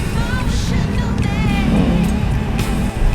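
Motorized tricycles pass along a busy street, a continuous loud engine drone with rising and falling revs as vehicles go by, close and steady throughout.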